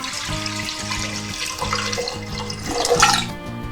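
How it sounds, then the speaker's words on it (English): Water runs from a tap into a pot for Mexican noodle soup, a steady splashing stream whose pitch shifts as it fills, with a louder gush near the end and background music. "we're gonna put some water."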